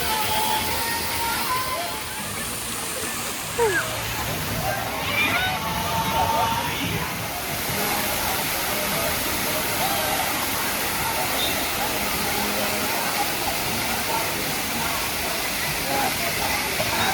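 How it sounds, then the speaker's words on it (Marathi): Water sprays and showers down in a water park rain dance area, a constant loud hissing splash that fills the scene while a person talks over it. "तर ह्या प्ले स्टेशनच्या शेजारीच आहे हा रेन डान्सचा विभाग"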